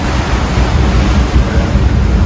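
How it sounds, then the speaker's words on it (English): Billowy open ocean heard from aboard a sailboat at dawn, with loud, constant wind rushing across the microphone over the wash and surge of waves, a dense, unbroken roar. "finds us on a rather billowy ocean"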